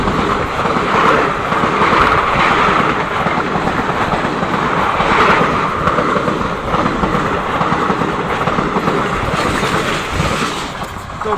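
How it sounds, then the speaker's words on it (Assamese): A train rolls past steadily for the whole stretch, its loud rumble and wheel clatter sustained near a jungle-side track, with no voices over it. "আৰু এখন ট্ৰেইন আহি গ'ল"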